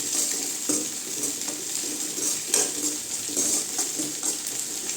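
Egg rice mixture seasoned with chili powder is stirred and scraped in a pan over steady sizzling, with a metal spoon clinking and scraping at irregular moments close by and no voices.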